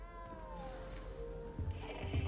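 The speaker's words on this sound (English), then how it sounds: "You don't need to be frightened, little cat." A cat in the video game Hogwarts Legacy gives a drawn-out, wavering meow, faint against background game sounds.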